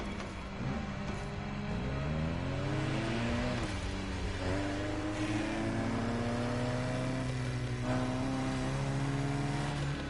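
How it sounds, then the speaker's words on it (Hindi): A JDM car with an inline-four engine in The Crew Motorfest revs loudly and continuously, its pitch climbing through repeated gear changes with a high, bike-like whine and no speech. "इसमें इनलाइन 4 है, तभी तुम्हें सुपर बाइक जैसी आवाज आती है।"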